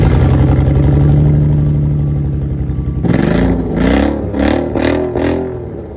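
A car engine idles with a steady drone through a homemade $100 exhaust, then revs up in several sharp, loud bursts, each rising and falling.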